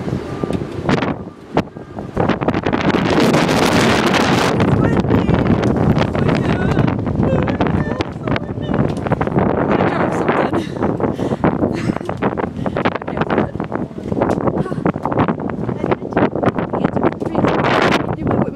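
Strong, steady wind gusting across a microphone at the open-air summit of the Eiffel Tower in Paris, roaring loudly and continuously with buffeting surges, while voices talk faintly beneath it.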